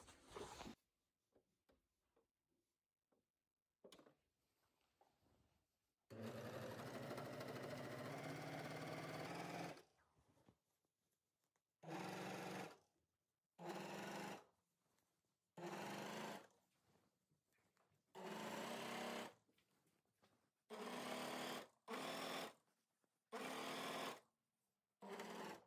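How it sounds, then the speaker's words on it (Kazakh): An overlock serger stitches around the edges of sweatshirt fabric, with one long continuous run followed by a string of short, evenly spaced bursts separated by brief pauses. The machine is loud and close, with no talking. "Енді осыны алып тастап, айналдырып оверлоктап аламын."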